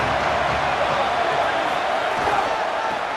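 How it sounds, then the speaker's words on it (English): Loud, dense crowd roar in an EA Sports College Football video game stadium on third down, a steady wall of cheering noise holding strong throughout without any talk. "Decibels rising as the crowd gets behind this defense on third down"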